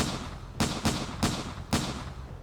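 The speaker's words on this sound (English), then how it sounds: "Gunshots crack through the air." Four sharp gunshots crack through the air in quick, uneven succession during a violent confrontation. Each report is abrupt and fairly loud against a low background rumble, with no speech.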